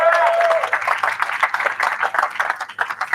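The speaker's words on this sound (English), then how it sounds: "I think they deserve a big round of applause." Wedding guests at a lunch reception giving a round of applause, a lively close burst of many hands clapping that stays strong for about three seconds, with a voice briefly audible at the start.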